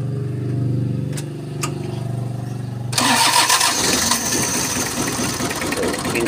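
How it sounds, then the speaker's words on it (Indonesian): A Mitsubishi L300 diesel engine that lacks power and misfires cranks with a starter whine, then fires up and runs loud and close with an uneven, rough idle, no talk. "Coba dihidupkan dulu mesinnya."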